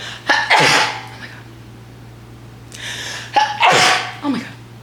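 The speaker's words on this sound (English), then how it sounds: "I'm gonna sneeze." Two loud, close sneezes burst out a few seconds apart, each a sharp intake followed by an explosive, breathy release, with a faint steady hum underneath and no speech.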